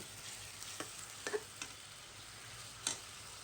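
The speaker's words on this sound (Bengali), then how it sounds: "এদিকে মাছের মশলা কষতে থাক" Spice paste of ginger-garlic paste, cumin paste, salt, turmeric and chilli powder fries for a rohu fish curry, a soft, low sizzle broken by a few sharp spatula clicks and scrapes.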